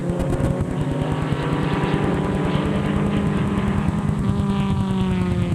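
A pack of race cars roars steadily at the start of a race, several cars droning together at high revs with a dense, continuous mechanical buzz.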